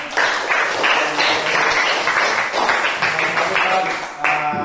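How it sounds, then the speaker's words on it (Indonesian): Classmates in a music lesson clapping for a fellow student, a fairly close burst of many hands in a quick, uneven rhythm that carries steadily, pausing briefly before a last swell. "Kita berikan tepuk tangan untuk teman kita"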